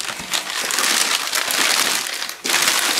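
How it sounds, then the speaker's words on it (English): A plastic bag wrapped around a new storage server crinkles and rustles loudly and continuously for about three seconds, close up, with one brief pause near the end. "Let's pull this out of this plastic bag so it stops making noise."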